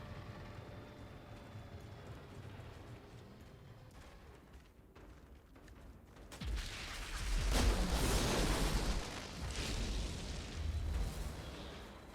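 Pyro's boomtown blasts in a video game, a quiet stretch that erupts into a loud, dense run of rumbling explosions and booms lasting several seconds, then tapering slightly.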